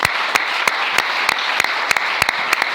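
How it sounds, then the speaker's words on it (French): A church congregation claps in quick, sharp, rhythmic bursts, loud and close, a dense run of hand claps with no voices rising above them. "Est-ce qu'on peut acclamer le Seigneur? On acclame Jésus."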